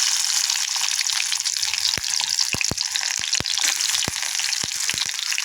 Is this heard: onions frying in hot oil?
yes